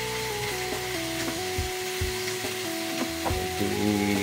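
Kare-kare mix fries in a pan of oil for a chicken kare-kare, a steady close sizzle with scraping stirs and small clicks of a utensil against the pan, no talk.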